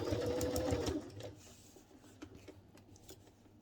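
A domestic sewing machine stitches a messenger satchel bag, running loud and fast with a steady whirring hum for about a second, then stopping and leaving soft handling clicks and fabric rustles.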